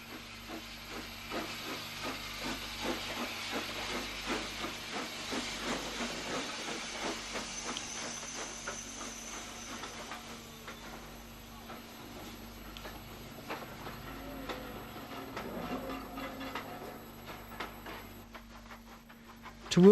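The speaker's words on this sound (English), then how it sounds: "Mogul number 91, the Bush, leaves Dungannon 10 to 1st with a train for Portadown." Steam locomotive Mogul No. 91 'the Bush' pulls out of Dungannon station with a train for Portadown, its steady exhaust beats and loud hiss heard from a moderate distance.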